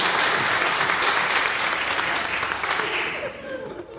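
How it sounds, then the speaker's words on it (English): A concert audience claps steadily and loudly, the dense applause thinning slightly toward the end. "Let's give him a round of applause."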